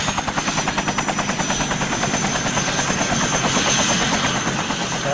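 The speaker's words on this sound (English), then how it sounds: "We heard the helicopter." A helicopter's rotor thumps in a rapid steady rhythm, loud and close throughout, with a constant engine whine over the beating blades.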